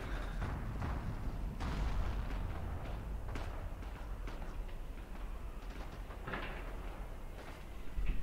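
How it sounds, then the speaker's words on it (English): Artillery fire rumbles through a World War II combat scene in the video game Forgotten Hope 2, on the Purple Heart Lane map: a dense, steady stream of distant booms and cracks with no voices. "I need artillery fire."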